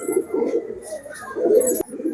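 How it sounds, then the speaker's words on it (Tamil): White racing pigeons coo in soft, repeated throaty rolls, close by and fairly loud, with faint chirps and a brief sharp knock in the background. "இது நம்ம வெள்ளை செட்டு புறாக்கள்"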